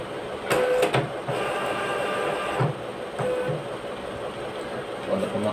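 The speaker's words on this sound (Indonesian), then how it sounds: "tanpa ribbon, kondisi terbuka pun tetap bisa di print" A GPrinter GP-1224T direct thermal label printer runs with its cover open, producing several loud bursts of motorised whirring with short pauses between them, heard close by.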